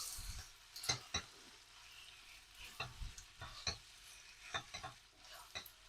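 Spaghetti tossed with chilli, garlic and oil crackles faintly in a pan, punctuated by sharp clicks and scrapes of stirring at an irregular rhythm, close and quiet with no talk.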